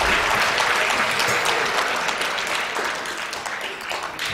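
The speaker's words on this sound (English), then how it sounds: "we should clap for that" An audience at a school all-city arts performance day breaks into dense, loud applause, a steady wash of many hands clapping that slowly tapers over a few seconds.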